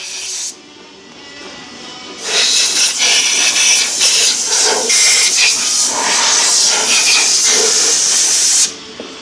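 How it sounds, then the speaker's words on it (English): Air blower clearing dirt from engine intake holes on a Holden Commodore VE/VZ: a loud, close hiss of compressed air with a short opening burst, then a sustained rushing blast for several seconds before cutting off. "I'm using this air blower because there's a lot of dirt on these holes"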